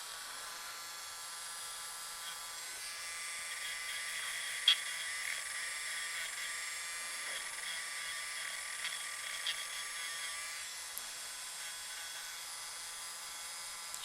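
Electric nail file buffing the skin around fingernail cuticles during a manicure, a steady high-pitched whine that runs continuously and fairly faint, with no talking.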